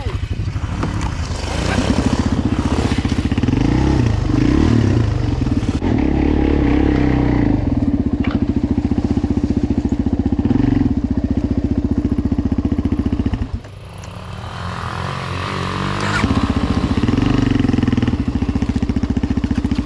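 Off-road motorcycles, including a Bashan 250 quad, LTZ 400 and E-ton 250, rev and ride nearby with a loud buzzing drone that dips briefly then returns, while people shout and talk over the engines.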